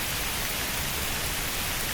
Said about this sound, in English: Rain on the Serengeti. Oh, it actually raindrops are on the ground as well.